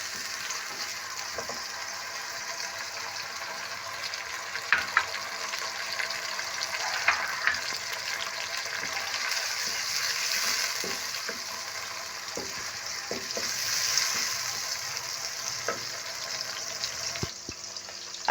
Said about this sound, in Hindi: अब इसमें डालेंगे शिमला मिर्च, तकरीबन 10-15 सेकंड के लिए इसे हम फ्राई करेंगे